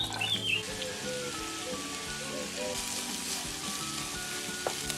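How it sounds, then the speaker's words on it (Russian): Chopped onions frying in a pan for a potato dish, a steady close crackling sizzle throughout, with no talk. "Наш лук отправляется в сковороду."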